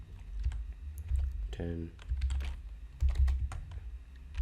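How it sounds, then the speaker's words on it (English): Fingers tap out a short string on a computer keyboard while coding a Vue.js password generator, giving irregular crisp key clicks close to the mic, with a voice speaking over the typing. "let's just type it out."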